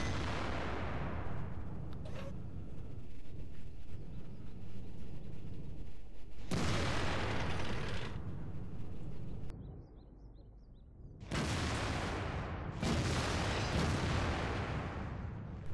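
Heavy bursts of tank cannon fire with high-explosive shells in World of Tanks, loud sustained blasts and rumbling impacts that cut off abruptly between volleys, with no voices.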